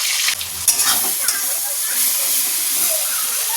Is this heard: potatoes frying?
yes